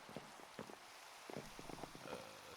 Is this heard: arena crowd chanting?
no